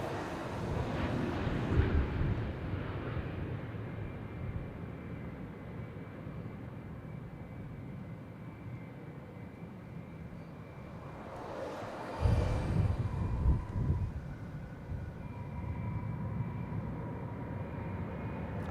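A passenger jet in a special Yam Dreaming livery rumbles past at an airport, a steady low roar swelling midway through as it draws nearer, then easing back to a broad drone.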